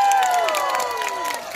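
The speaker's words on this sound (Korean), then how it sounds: "박수 한번 쳐봐" An audience claps at an outdoor pumba performance during a festival afternoon show, dense applause and crowd noise under a descending tonal sound, moderately loud throughout.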